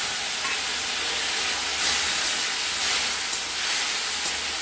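A little water poured into a hot pan of cumin powder for a hilsa fish curry bursts into a loud, steady steaming hiss and sizzle that swells briefly and holds close throughout, with no talking.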